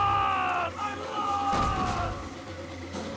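A Street Fighter IV fighting game character lets out a loud bellowing yell over game music and effects, with players talking in the background.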